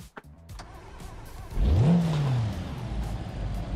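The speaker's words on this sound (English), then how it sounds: "Okay, no limiter, but the engine can handle it." A car engine in the BeamNG video game revs up sharply on a test drive with no rev limiter, the pitch sweeping upward then easing back into a loud sustained drone after a few faint clicks.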